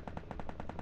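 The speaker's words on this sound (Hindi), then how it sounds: "पीछे गोली चल रही है भाई" Automatic gunfire in the Free Fire battle royale game: a quick burst of about eight evenly spaced shots, moderately faint and heard alone.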